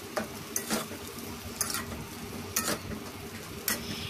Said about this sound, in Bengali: লঙ্কা গুঁড়ো দিয়ে নেড়ে চেড়ে আমার ভাজা হয়েই গেছে